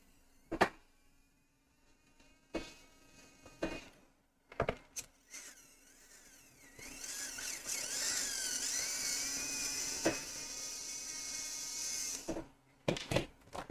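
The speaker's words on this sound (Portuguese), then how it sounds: "Os parafusos estão acabando." Screws come out of a Lenovo Y50-70 Touch or Acer Aspire E5-574 laptop case: short whirring bursts from a small electric screwdriver with clicks between them, then one longer steady high whine, all close and fairly quiet.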